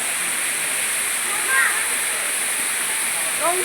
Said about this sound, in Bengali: অসম্ভব সুন্দর একটা ঝর্ণা